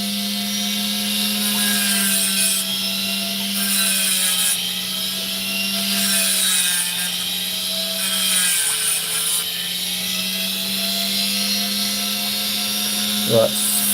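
A power tool grinds a sand patch off a Lightning Ridge opal with a steady, loud high whine and a constant droning hum, the pitch wavering slightly as pressure changes throughout, with no one talking.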